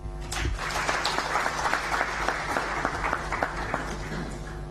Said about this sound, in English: Welcome with me with a round of applause, the Reverend Canon Aaron Mwesije.